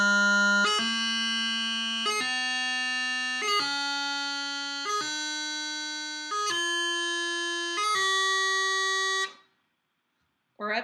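The G grace note scale played at a quicker pace on a wind instrument, with about seven bright, buzzy sustained notes climbing in turn, each clipped by a short grace note, then a sudden stop into silence.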